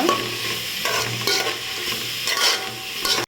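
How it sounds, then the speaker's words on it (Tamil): Chopped onions sauté in a pan for a beef pepper gravy. A loud, close frying sizzle runs under repeated scraping stirs, and a sharp clatter comes right at the end. "வெங்காயம் சேர்த்துக்கலாம் நல்லா பொடிஞ்சிருச்சு சேர்த்து நல்லா வதக்கிக்கோங்க பொன்னிறமாக வதக்கிக்கோங்க"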